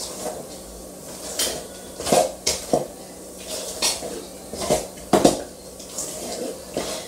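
A mixing bowl is handled in a kitchen while preparing a Christmas fruit cake, with scattered clinks, knocks and scrapes at an uneven pace, close by and fairly soft.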